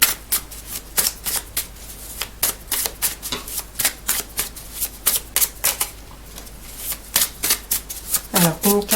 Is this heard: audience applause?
no